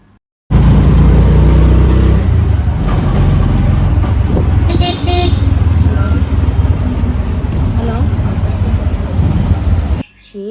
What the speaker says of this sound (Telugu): ఏది మారినా బెంగళూరులో ట్రాఫిక్ మాత్రం మారదు కదా